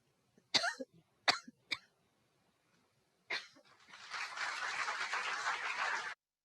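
Three sharp coughs in quick succession, then a single cough after a pause, followed by a rustling hiss; close and fairly quiet.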